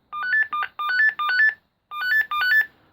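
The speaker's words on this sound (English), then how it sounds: "this would be the ringtone" An AEG Telecar D901 GSM transportable phone plays its ringtone: bright electronic two-note warbling bursts in a quick repeating pattern, four short phrases, a brief pause, then two more, loud and close with no voices.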